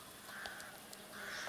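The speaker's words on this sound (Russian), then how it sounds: "Нет, это грачи, наверное." Rooks cawing at a distance outdoors, a few faint harsh calls spread over a soft background hiss, with no talking.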